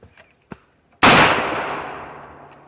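A single loud, sharp report from a 7.62x39 pistol fired with sand on it, close by, with a long decaying tail after it and a faint click about half a second before.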